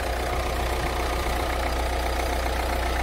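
A Ford 1.6 litre TDCi turbo diesel car engine idles with the bonnet open, giving a steady, even low rumble that holds close and constant throughout.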